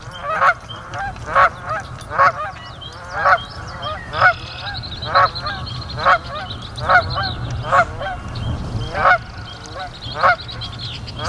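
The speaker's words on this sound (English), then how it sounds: "That's a big goose, man." Canada geese honk repeatedly near a nest, loud close calls coming in a steady series of about a dozen bursts over a low outdoor rumble.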